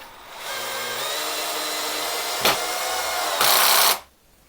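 A Bosch EasyImpact 12 cordless drill in screwdriving mode at minimum torque drives a screw without a pilot hole, giving a steady close motor whine for several seconds, a brief click midway and a louder final burst before it stops.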